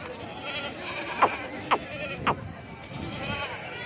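Goats for sale at a weekly livestock market in Gudur bleat three times in short, fairly close calls over a steady crowd murmur, with trader voices talking faintly in the background.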